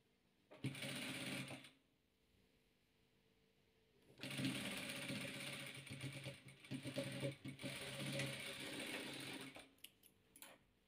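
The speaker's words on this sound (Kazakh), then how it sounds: "Енді мына көгімізге осылай қаратып тігеміз." Sewing machine stitching pieced patchwork fabric blocks, running in two bursts: a short run of about a second, a pause, then a longer steady whirring stretch of rapid stitching, close and alone.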